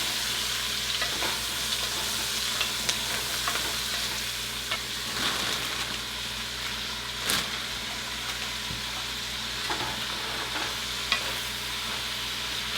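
Vegetables for a green soup cook down in a pot, giving a steady close simmering sizzle broken by scattered spoon scrapes and clinks as they are stirred.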